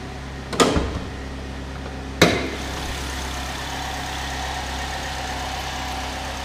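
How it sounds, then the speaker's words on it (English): A 2011 Chevrolet Malibu engine idles smoothly and steadily, with two sharp knocks or clicks early on. "Engine running nice and smooth."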